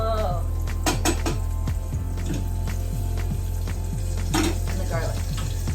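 White and light green onion pieces with ginger and garlic frying over high flame in a pan, a soft sizzle beneath repeated metallic clinks and scrapes of a utensil against the pan.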